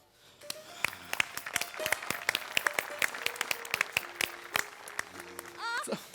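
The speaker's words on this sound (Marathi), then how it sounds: "म्हणजे एकदा जोरदार टाळ्या." A studio audience at a Marathi comedy stage show bursts into rapid, sustained applause, dense sharp claps building and holding for several seconds, with voices speaking over the clapping.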